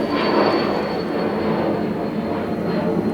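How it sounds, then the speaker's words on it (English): A jet aircraft passes overhead during outdoor work, giving a continuous, even broadband roar that holds steady throughout with no speech over it. "Jet overhead."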